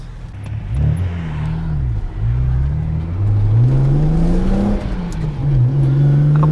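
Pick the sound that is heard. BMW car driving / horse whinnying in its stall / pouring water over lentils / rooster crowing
BMW car driving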